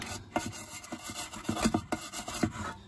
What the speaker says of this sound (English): scrape some of that gasket material off